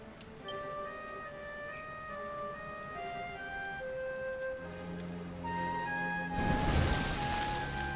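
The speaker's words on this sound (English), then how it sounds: "Looks like the rain's dying down." Rain patters steadily in the video game Dragon Quest XI, a soft continuous shower under sustained musical tones, swelling into a louder wash of rain near the end.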